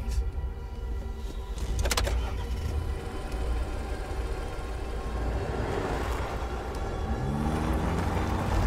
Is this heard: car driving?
yes